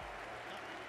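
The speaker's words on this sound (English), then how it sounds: "That is all of the Brentford fans applauding Bukayo Saka under the pitch after he missed that penalty." Brentford fans applauding Bukayo Saka in a football stadium, a brief wash of distant crowd clapping.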